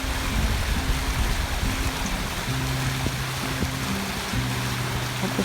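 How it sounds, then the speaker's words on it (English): Flowing stream water rushing and trickling steadily, a continuous broad wash close by, with faint low tones of background music underneath and no voices. "Let the sound of the water take you away."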